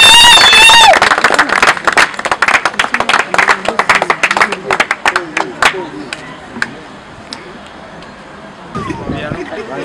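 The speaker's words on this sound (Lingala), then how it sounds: "Acclamons tous." A crowd claps and cheers for Maître José at a gathering of Kinshasa sportsmen, first as a dense burst of applause, then as scattered, thinning claps fading toward the end, with voices calling out over it.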